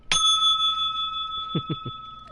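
A bright bell ring struck once as a notification chime, ringing on with a long metallic sustain, followed by a few soft low thumps.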